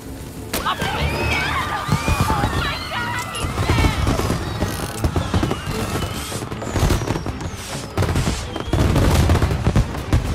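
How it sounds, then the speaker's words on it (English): A rapid barrage of popping bursts and booms from video game fireworks in Mafia Definitive Edition, with whistling streaks, crackles and a loud, dense, continuous mix throughout. "And now for the fireworks"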